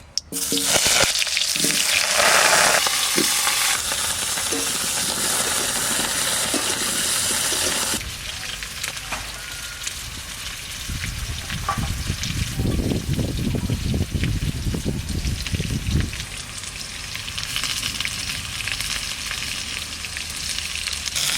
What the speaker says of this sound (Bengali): এবার আলু কটা ভেজে নেব, তেল দিচ্ছি